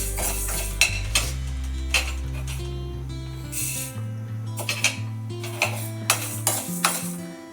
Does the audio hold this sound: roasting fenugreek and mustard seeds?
yes